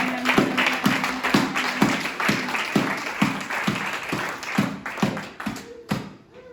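A church congregation at a Sunday worship service claps in a steady, rhythmic beat, roughly two claps per second, sustained for several seconds before fading, fairly loud and close.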